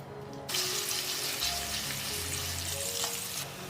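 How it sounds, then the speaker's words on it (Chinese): Small pieces of chicken fat render slowly over low heat in a pan started cold, a dense steady sizzle that switches on abruptly and holds evenly for several seconds, close and fairly loud with no voices. "然后冷锅小火慢煎出鸡油"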